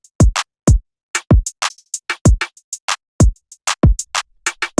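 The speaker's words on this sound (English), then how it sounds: "So I set up a little hi hat drill pattern here" Drill-style hi-hat pattern for a club beat programmed in FL Studio, with sharp hats and kick hits firing in irregular bursts and rolls alongside deep booming bass hits, loud and dry, no talking.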